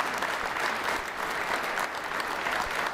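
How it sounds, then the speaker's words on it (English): A seated audience at a session claps steadily, filling the room with a dense, even wash of applause from many hands for the whole stretch, with no voices standing out. "let's give him just a round of applause for investing in us this semester"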